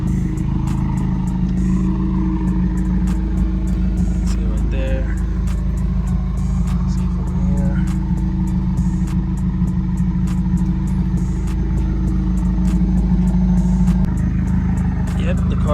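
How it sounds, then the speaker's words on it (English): A car engine idles and rumbles steadily nearby with a low drone while a person talks over it, with occasional light clicks and clatter. "I'm about to pull the car out so you guys can see it."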